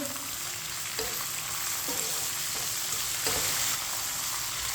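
Dry fruit and vermicelli being stirred and fried together in a pan, an even crackling sizzle with several distinct spatula scrapes at regular intervals, close and unaccompanied by speech.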